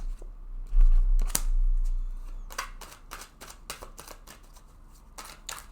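Tarot cards are shuffled and drawn close by, with a brief riffling flutter followed by soft dry slides and flicks of card stock in an otherwise quiet room.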